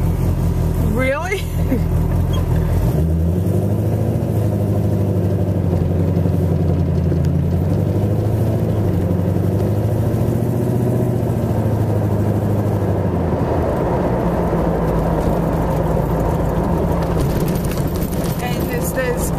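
A 1926 Ford Model T Tudor hot rod with a gasoline engine idles in a loud, steady, low chug that falls away near the end, while people talk over it.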